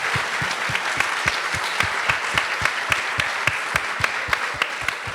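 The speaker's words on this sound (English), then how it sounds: "why don't we give them a round of applause" A conference audience in Miami applauds a panel, steady applause with a prominent near clapper striking a sharp, regular beat above the wash of hands throughout.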